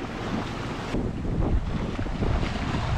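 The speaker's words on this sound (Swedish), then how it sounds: "nu kom det lite vind till slut" Wind rushes steadily over a sailboat at sea along the Great Barrier Reef, a broad continuous roar with water and hull noise mixed in, loud and unbroken, no voices.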